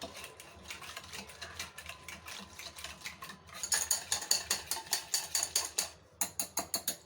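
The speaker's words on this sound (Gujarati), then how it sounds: "હવે એની અંદર આપણે ઇલાયચી પાવડર એડ કરીશું અને આ બધું આપણે મિક્સ કરી દઈશું" A spoon stirs curd with sugar and cardamom powder in a bowl, producing quiet scraping and clinking strokes that become a steady, faster rhythmic clatter in the second half.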